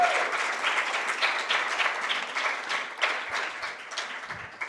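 Warm applause from a festival crowd at VLF honoring the volunteer team, sustained and fairly loud, with dense overlapping claps that slowly taper toward the end.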